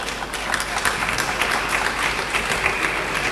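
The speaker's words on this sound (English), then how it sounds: "please give him a warm round of applause for me" Sustained audience applause at a church anniversary celebration in Akropong, Akuapem, steady dense clapping from a large crowd filling the whole stretch with no talk over it.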